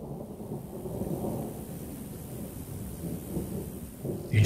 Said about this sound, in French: Un jour d'orage